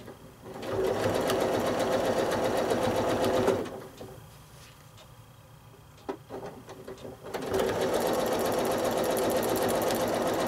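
Quilting sewing machine stitching zigzags in rapid, steady runs, loud and close, with a pause in the middle where faint talk and small clicks are heard before the stitching resumes.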